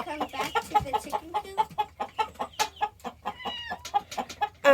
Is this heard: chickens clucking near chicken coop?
yes